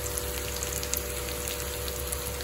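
Sauce goes into a hot frying pan while cooking chicken pulao, bringing a steady, even sizzle and crackle at moderate volume with faint patters, no talking.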